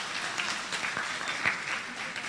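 An audience at a mushaira poetry gathering in Jeddah claps to welcome a poet, a dense, even wash of applause that stays steady throughout.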